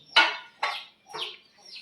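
Four short, sharp squawking clucks from chickens on a poultry farm, evenly spaced and fairly close, each fading quickly into quiet.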